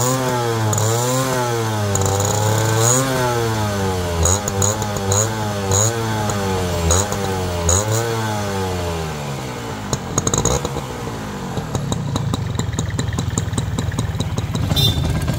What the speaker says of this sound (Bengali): বাইকটা এখন স্টার্ট করে সাউন্ড কন্ডিশন দেখাবো